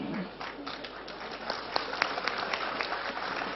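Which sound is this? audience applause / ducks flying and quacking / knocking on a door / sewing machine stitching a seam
audience applause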